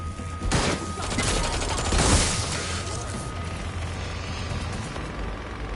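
Gunfire in Watch Dogs: Legion, heard as a sustained rolling barrage of shots and booms that peaks early and then settles into a steady rumbling wash.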